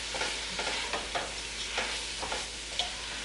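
Spices stirred into browning venison chili meat in a hot pan, a continuous sizzle broken by soft scraping strokes of the spoon, close and steady.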